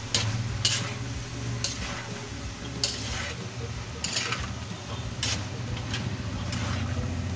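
Mixed vegetables being stirred in a pan, a steady low sizzle under periodic scraping strokes of a utensil, each a brief bright rasp a second or so apart, close by and with no voices.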